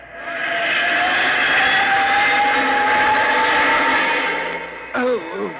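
A radio drama effect of an aircraft engine, loud and close, with a rising whine that holds steady, then fades as a voice briefly speaks near the end.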